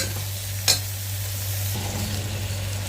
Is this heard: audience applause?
no